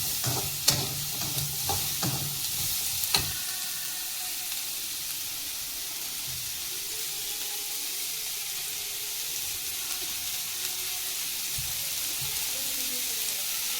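Onions and tomatoes sautéing in a pan for a mushroom gravy give a steady, fairly quiet sizzle throughout, with a few sharp stirring clinks near the start and no talking.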